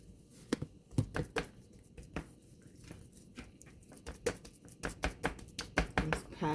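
Bare hands pat barbecue seasoning onto a whole raw chicken, a quick uneven series of soft, close slaps and taps.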